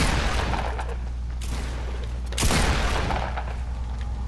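Gunfire in the Fortnite video game, a dense burst of shots with a heavier blast near the middle, ringing over a steady low rumble of game audio with no talk.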